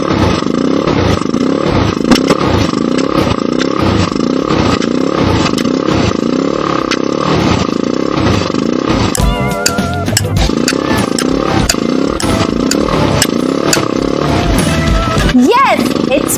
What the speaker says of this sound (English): Yes, it's motorcycle.